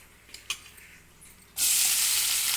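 Sliced onions and green chillies dropped into about a cup of hot oil, a few faint clicks first, then a sudden loud, steady sizzling hiss that continues to the end, close up.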